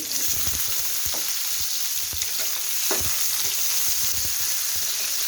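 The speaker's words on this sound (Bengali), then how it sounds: "তেলটা গরম হয়ে গিয়েছে, দিয়ে দিলাম পেঁয়াজ কুচি" Chopped onion hits hot oil in a pan for a Bangladeshi fish-head muri ghonto, giving a steady, close sizzle with scattered crackles and a few stirring scrapes throughout, no talking.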